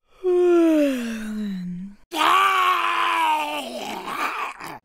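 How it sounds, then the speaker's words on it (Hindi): A person lets out two long, loud screams close by, the first a falling wail and the second harsher and more strained. "ये स्क्रीम है चीखने को इंग्लिश में हम कहते हैं स्क्रीम"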